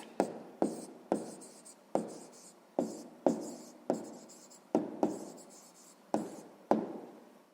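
Pen writing a math answer on paper, heard close up as a series of short scratchy strokes in a steady rhythm, each word a brief burst with small pauses between, with no talking.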